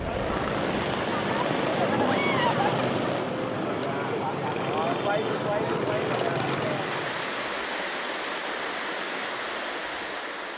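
Steady rushing water in Vietnam, a broad continuous wash like waves or a torrent that stays loud and even, then eases slightly toward the end; no speech heard.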